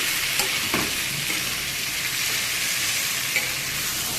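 Taro stems and papaya fry in a pan after a cumin seed tempering, giving a steady, close, continuous sizzle with a few faint stirring clicks, and no voices.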